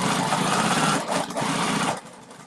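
A sewing machine top stitches straight across a Triskele wallet edge, edge to edge, a loud, close, steady mechanical whir for about two seconds before easing off.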